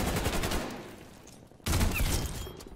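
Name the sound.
gunshots from Krig 6 rifle in Call of Duty video game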